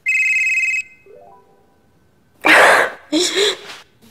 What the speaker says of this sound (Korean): 한 통의 전화가 걸려왔습니다